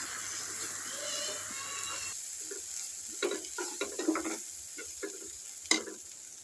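Chili powder is stirred into a hilsa mustard curry frying in a pan: a soft sizzle gives way to a quieter stretch broken by several scraping stirs and spoon knocks, close and fairly faint.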